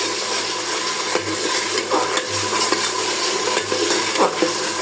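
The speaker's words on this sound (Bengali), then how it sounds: "এখন দিয়ে দিলাম জিরা বাটা, পরিমাণে দেখেন অনেক বেশি বেশি দিতেছি।" Cumin paste fries in a pan with beef, a dense close sizzle broken by rhythmic spatula strokes and scraping against the metal every second or so, loud and steady with no speech.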